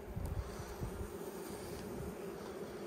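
Honey bees crowding a hive frame in late March, a steady close buzzing hum with soft low rustling beneath, no voices.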